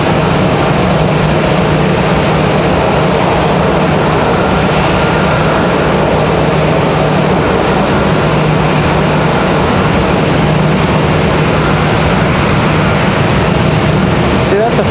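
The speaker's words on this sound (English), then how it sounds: "As we've got Frontier returning to the gates." A Frontier airliner taxis back to the gates at Raleigh-Durham airport, its engines a loud, steady droning rumble that stays constant throughout, with voices heard over it.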